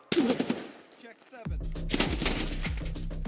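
Gunfire in the video game Escape From Tarkov, a short burst of shots at first, then after a pause a sustained rapid automatic volley, loud and close, with some voice mixed in.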